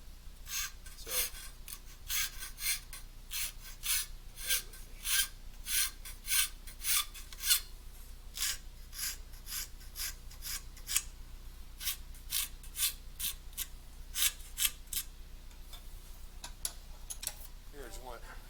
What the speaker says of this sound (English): a rasp is much more aggressive than a file